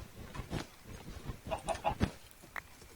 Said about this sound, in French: Vous avez des poules